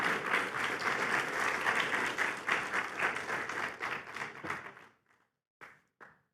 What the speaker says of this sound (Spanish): Dale un aplauso grande a nuestro Dios.